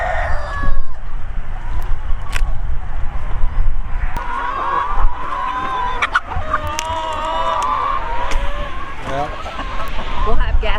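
Backyard chickens cluck and chatter while they peck at large garden leaves tossed to them as a snack, with scattered sharp pecking and rustling sounds and people talking nearby.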